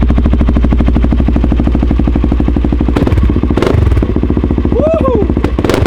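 An ATV quad fitted with a loud aftermarket exhaust idles close by with a heavy, rapid, lumpy pulse, then blips up in a couple of sharp revs, while a voice calls out briefly over it.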